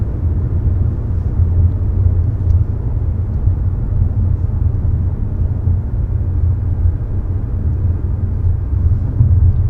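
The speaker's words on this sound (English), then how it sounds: "talk about just your ride quality as well as the audio level inside of this cabin" Steady low road rumble fills the cabin of a 2022 Mazda CX-30 Turbo on the move, a constant dull drone of tires and engine with no voices and no breaks.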